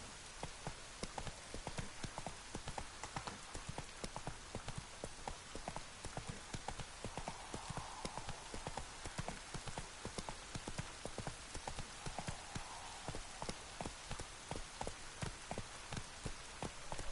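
Horse hooves from a video game clip-clop at a steady riding pace, a quick, even rhythm of soft thuds heard quietly with no voices.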